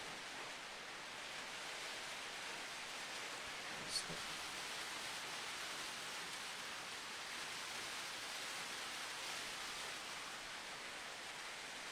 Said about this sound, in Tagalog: Dahil ang lakas na ng ulan dito.